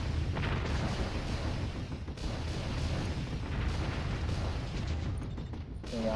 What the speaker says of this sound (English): Rocket pods all over the place.